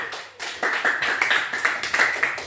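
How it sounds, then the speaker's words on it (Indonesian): Students in a classroom clap their hands for a classmate, a close, lively burst of steady rhythmic clapping with no talk over it. "Beri tepuk tangan buat Kesia"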